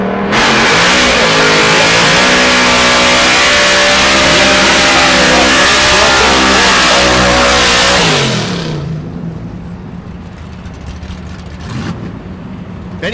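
A turbocharged LS-powered race car at a drag strip roars hard under acceleration for about eight seconds, its engine note climbing loud and close, then fading into a distant lower rumble as it pulls away.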